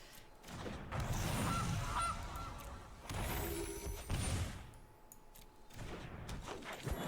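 A Gilded Goose card honk from a Magic: The Gathering video game, a loud synthetic goose call in several honking bursts with brief gaps between them, and no voice over it.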